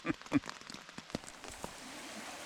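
Rain falls on a camping tent at night in a West Virginia wilderness area, soft scattered pattering with a few sharper drops early on, faint and close, with no talk.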